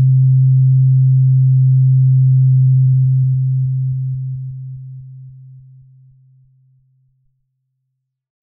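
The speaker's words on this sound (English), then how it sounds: "changing the volume output of the sine wave" A single low synthesizer sine tone hums steadily, then fades out in stepwise drops in volume until silence.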